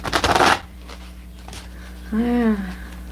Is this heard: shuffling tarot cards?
yes